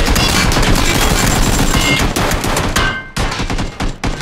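Rapid automatic gunfire in the PUBG video game, a dense, loud volley of shots hammering continuously, then breaking into shorter bursts with brief gaps near the end.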